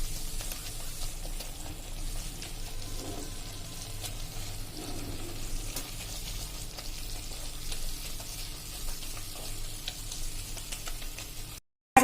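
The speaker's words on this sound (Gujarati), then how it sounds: "આને આપણે હળવા હાથે એકદમ સરસ હલાવી લેશું આ રીતે" Chickpea flour mixture being stirred gently in a pan for a chilli relish, a soft continuous scraping and light sizzle, close and quiet, with no voices.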